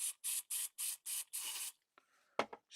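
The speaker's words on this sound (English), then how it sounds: "Spray it through, give it a clean." An airbrush sprays through to clean in six short hissing bursts, the last one longer, followed by a soft rustle and a brief sharp puff.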